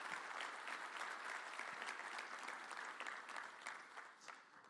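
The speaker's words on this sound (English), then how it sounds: "Another round of applause, please" Steady audience applause at a higher-education summit opening, sustained and fairly distant, slowly thinning toward the end with no speech.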